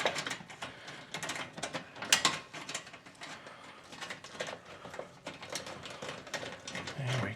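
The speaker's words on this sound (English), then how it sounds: "Let's see if we can get it aligned and screw it in at the same time." A Molle panel being screwed onto a Jeep Wrangler JL, with rapid ratcheting clicks and metallic mechanism rattles in irregular bursts throughout, close and moderately quiet, with some faint voice in the background.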